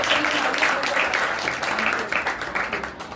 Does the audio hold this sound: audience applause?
yes